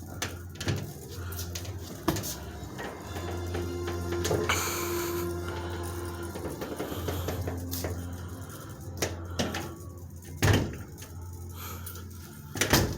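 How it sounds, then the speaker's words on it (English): A loose door fitted with an unknown door closer swings and bumps against its frame, several sharp knocks and rattles with mechanical creaks between them, close up and with no one talking. "The door's a little loose, so that's why I cannot pull the door shut all the way."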